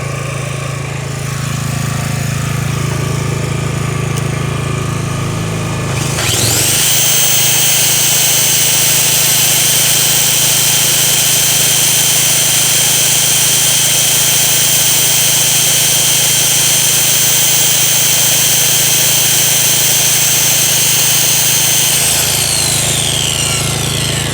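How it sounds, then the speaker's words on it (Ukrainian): A circular saw spins up and runs idle with no load, powered by a Rolwal RB-J-GE3800X or RB-J-GE3000X portable generator; a loud steady whine starts a few seconds in over the generator's engine drone and holds to near the end. "дискова пила на холостих без навантаження споживає 960 Вт"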